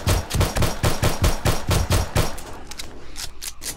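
Automatic gunfire rattles in the survival game 7 Days to Die, a loud, close, steady stream of rapid shots that slows into scattered bursts near the end.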